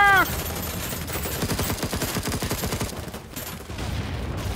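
Rapid automatic gunfire from the video game Battlebit Remastered, loud, close bursts of fast repeating shots from several directions, continuous volleys with a brief pause near the end.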